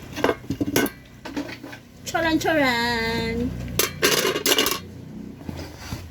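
Metal pressure cooker parts clink and clatter as they are fitted together, with several sharp clanks and scrapes. A person calls out excited exclamations between the clinks.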